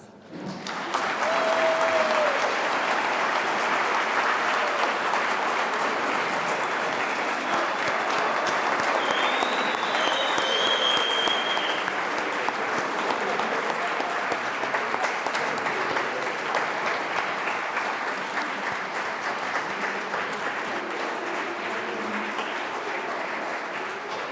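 Sustained applause from a large crowd at a medical school White Coat Ceremony fills the room for over twenty seconds, steady and dense, with a few faint cheers mixed in.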